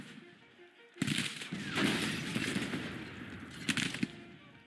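Artillery cannon fire in the Grand Tactician Civil War video game, a sudden loud burst followed by rolling, crackling battle noise and a couple of sharper reports near the end.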